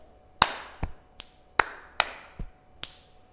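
Body percussion sequence of chest pats, hand claps and finger clicks performed by a music teacher, about eight sharp, close, dry hits in an uneven rhythm with no talking.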